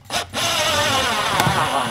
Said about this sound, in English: I'm going to use my drill here just to drive it right in.